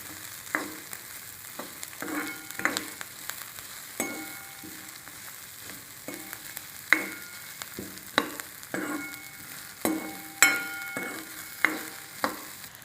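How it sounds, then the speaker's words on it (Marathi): Onions sauté in a pan over low heat for a tondli vegetable dish, with a soft, steady sizzle and a regular run of sharp scraping stirs every second or so, close by and with no talk. "असा चांगला कांदा तांबूस कलवरच परतायचा असं गॅस बारीक करून"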